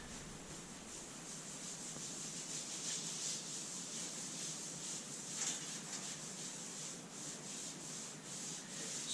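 A wet sponge rubs grout off tile in a soft, continuous scrubbing swish, fairly quiet and close, with no one talking.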